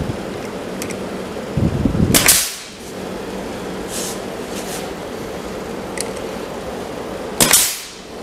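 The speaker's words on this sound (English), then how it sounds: "I'll shoot it into place with some brads around the edges" A nail gun driving brads into a wooden cabinet being built, with a few sharp pneumatic snaps spaced seconds apart over a steady background hum, each shot crisp and close.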